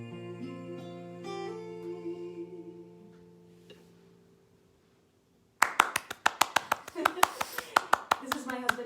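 Sharp hand claps from a man at the back of a living-room concert, a quick rhythmic run of crisp claps that starts abruptly after the music fades.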